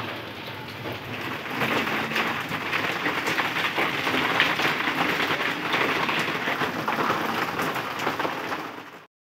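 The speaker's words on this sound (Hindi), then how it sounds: "बारिश जो है ना वो शुरू हो गई थी" Heavy rain pours steadily during a Ramadan day, a dense, continuous hiss of drops drumming on outdoor surfaces that holds constant for the whole stretch with no voices.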